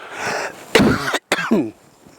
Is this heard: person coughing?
yes